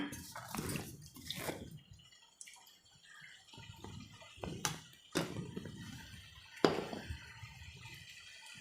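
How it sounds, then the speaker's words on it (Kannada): Several separate splashes and gurgles of water poured into a pot of ground-masala egg and capsicum curry, short bursts with quiet gaps between, close and fairly soft. "ಈಗ ನಾನು ನೀರು ಉಪ್ಪು ಸೇರಿಸ್ಕೊತೀನಿ"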